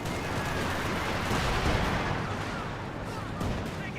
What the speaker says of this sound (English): MG-34 firing away